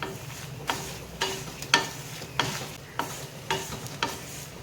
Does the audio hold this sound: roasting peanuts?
yes